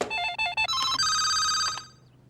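A telephone rings with a bright electronic melodic ringtone of quick rising tones, close and clear, running about two seconds before it cuts off.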